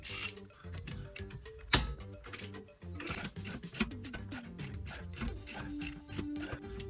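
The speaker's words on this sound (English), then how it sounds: "remember take off the mounting bracket for the caliper" A ratchet working on the rear brake caliper mounting bracket of a BMW E36, with rapid clicking pawl strokes in quick bursts and brief pauses, close and fairly loud, with metallic clanks between runs and no talking.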